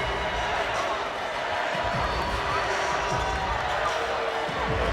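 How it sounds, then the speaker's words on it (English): A large, lively crowd fills the arena at a UConn versus Notre Dame women's college basketball game, a steady roar with squeaks and ball bounces beneath, while a commentator talks over it. "The crowd has been terrific."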